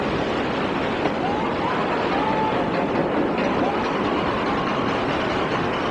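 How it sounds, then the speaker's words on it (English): Freight trains moving around a train yard, a steady broad rumble of rolling wagons throughout, continuous and fairly close with no distinct breaks. "First, we'll take a peek at some freights as they move around in the train yard."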